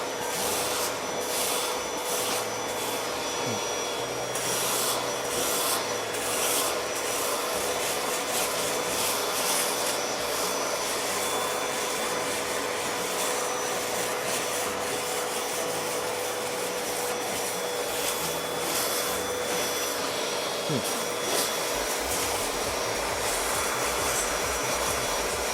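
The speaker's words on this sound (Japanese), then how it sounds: "リンサーで水を吸ってあげる" A carpet rinser extractor sucks water out of the damp upholstery of a Nissan March, a steady close whooshing suction with scraping and rubbing as the nozzle drags over the fabric, no voices.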